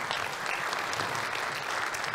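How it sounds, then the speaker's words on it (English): An audience applauds a speaker after a talk on travel laptop programs, a dense, even wash of clapping that holds steady throughout without any voices. "big round of applause for Dan for sharing that"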